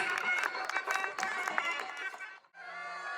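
A crowd at a Pakeeza Night music show in Nokha, Rajasthan claps loudly and steadily in a dense burst, then it cuts off abruptly into a sustained musical tone.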